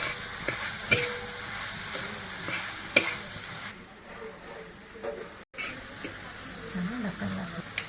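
Spices, salt, turmeric, chili powder and crushed peanuts are stirred into tomato chutney frying in a pan, giving a steady sizzle and hiss broken by scraping stirs and clanks, with a voice talking over it.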